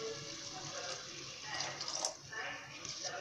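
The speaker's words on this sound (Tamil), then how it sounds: "இப்போ இதோட நம்ம தேவையான அளவுக்கு தண்ணியும் ஊற்றிக்குங்க." Water is poured into a pan of chickpea masala (chenna masala), a close, steady splashing stream lasting a few seconds and rising slightly in the middle.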